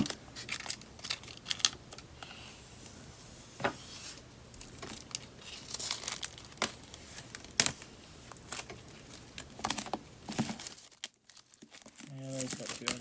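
Protective plastic film is peeled and crinkled off a 2018 iPad Pro 11-inch box, close crackling and tearing rustles in an irregular run, followed by a short pause and a few soft handling sounds.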